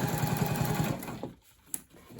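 A sewing machine bastes along the edge of a tote lining with a rapid, close mechanical whirr that stops after about a second, followed by faint handling noise and a small click.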